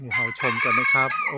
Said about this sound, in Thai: กับเสียงไก่ขันนี่นะครับ